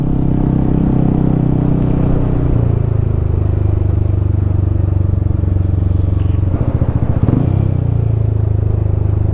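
A Yamaha XMAX 300 scooter engine drones steadily while engine braking on a long road, with the pitch dropping partway through and a brief clattering burst near the end, close and continuous.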